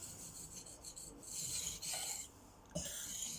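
A knife of roughly 61 HRC hardness being sharpened by hand gives a close, steady rasping of blade strokes on the stone, with brief pauses between passes.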